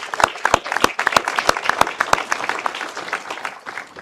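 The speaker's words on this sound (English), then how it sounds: "Please help me by giving a round of applause for all of our attendings present today." Audience at a 2026 graduation ceremony claps for the attending physicians, with sharp individual claps standing out near the front over a steady crowd patter.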